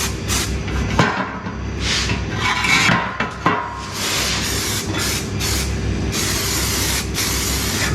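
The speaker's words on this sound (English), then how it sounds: "So now I put some welding primer in here so they don't get the rusty" Welding primer sprayed from an aerosol can onto the chassis and front outriggers of a VW T4 campervan under rust repair, a loud, steady, continuous hiss with a couple of brief knocks, no talking.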